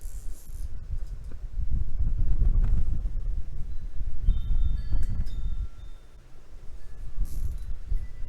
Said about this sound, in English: Sure is windy out here today.